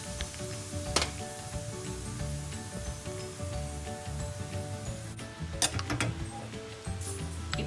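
Red chilli powder dropped into hot oil with mustard seeds after the stove is switched off, tempering for an instant mango pickle, a moderate sizzle with a few sharp crackles and pops, close and without talk.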